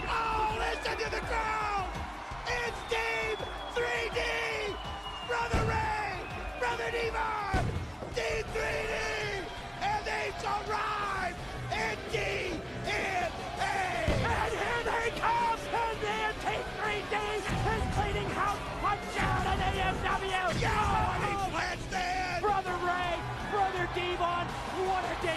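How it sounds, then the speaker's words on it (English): A professional wrestling arena crowd roars for Team 3D at a 2005 TNA Impact show, with sustained cheering, whoops and yells from many voices filling the space continuously and without pause. "Oh, listen to the crowd!"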